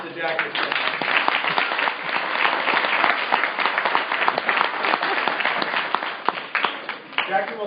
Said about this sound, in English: Please give a round of applause to Jackie Stagg.